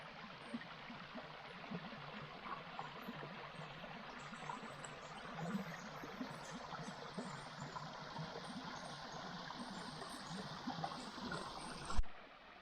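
Creek water flows and trickles steadily along a wilderness loop trail, a continuous close rushing wash that holds level throughout, with a brief louder bump near the end.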